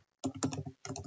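Quick bursts of close typing on a computer keyboard, a rapid cluster of clacking keystrokes, a brief pause, then another cluster, with no talking.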